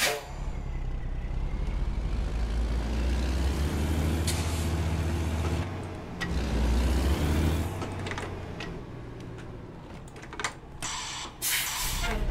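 The engine of a used, malfunctioning truck in American Truck Simulator runs with a steady low rumble, broken by hissing air-brake bursts and short mechanical spurts near the end.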